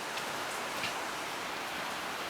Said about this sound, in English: Raining pretty good right now.